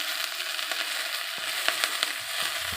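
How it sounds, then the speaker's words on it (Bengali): Shanti shak greens fry in a pan as they are stirred, a continuous crackling sizzle broken by scattered clicks and scrapes, close and moderately loud. "আমি শাকটা দিয়ে এবার আমি দেখছি নেড়ে চেড়ে ভেজে নেবো ভালো করে।"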